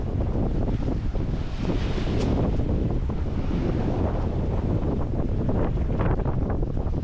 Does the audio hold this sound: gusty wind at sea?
yes